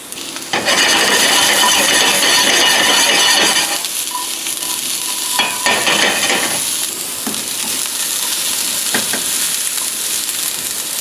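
Chopped garlic and jalapeno fry loudly in a hot pan, a dense crackling sizzle that eases slightly after a few seconds, with scraping stirs now and then and no talking.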